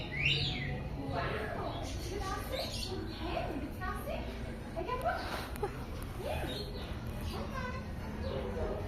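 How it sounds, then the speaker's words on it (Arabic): Small caged birds in a large pet supply shop give many quick, overlapping chirps and tweets. Voices and children's sounds carry through the busy room behind them. "ده العصافير."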